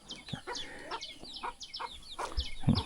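Free-range chickens in a rural village cluck in short, repeated bursts, several birds close by, with rustling farmyard background and no talk.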